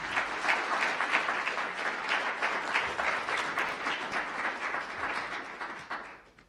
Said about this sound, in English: let's give another round of applause for our 4 presenters